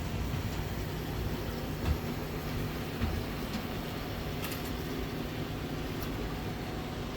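A model train runs on its track at a train show, a steady low rumble and rolling hum throughout with a few faint clicks, no voices.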